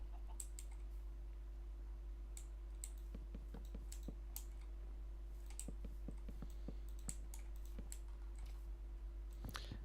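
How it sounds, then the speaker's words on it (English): A computer keyboard clicks in quick, irregular bursts of typing, faint and close over a steady low electrical hum. "I need a new keyboard. This clicking is driving me insane."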